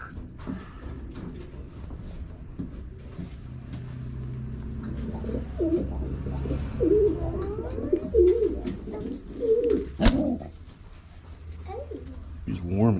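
Baby pigeons cooing in a pigeon loft, soft repeated coos and murmurs close by, mixed with rustling and people talking throughout, plus one sharp knock.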